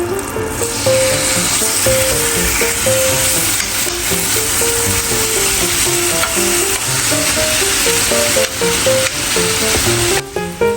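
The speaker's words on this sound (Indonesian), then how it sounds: "kita panggang ayamnya sampai mateng" Chicken pieces cook in butter in a pan, giving a loud, steady sizzle with sputtering pops and occasional stirring scrapes over about ten seconds, with no voices.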